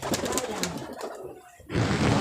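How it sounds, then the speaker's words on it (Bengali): Domestic pigeons for sale coo in soft, throaty bursts with background chatter and noise, pausing briefly before a louder noisy stretch resumes. "একদম ফ্রেশ পায়রা যাকে বলা হয়, ঘরোলা ফ্রেশ পায়রা"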